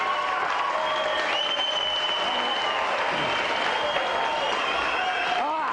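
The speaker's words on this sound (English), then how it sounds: "applause for Steve, the winner in the blue boat." Steady applause from a TV game show studio audience for the winner fills the whole stretch, with some voices and cheers mixed in.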